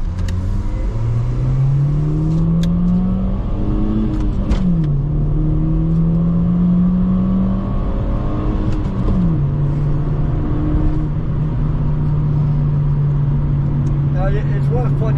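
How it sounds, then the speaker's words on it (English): A car motor revving loudly and close while driving, its pitch climbing steadily, dropping sharply twice at gear changes, then holding a steady drone. "That's the motor."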